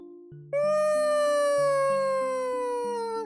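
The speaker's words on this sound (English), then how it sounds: "I'm stretching and yawning right now." A long, loud, wavering vocal yawn rises abruptly and holds a steady drawn-out tone over a repeating stepped background melody before trailing off.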